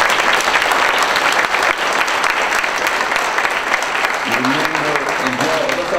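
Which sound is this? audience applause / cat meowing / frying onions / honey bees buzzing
audience applause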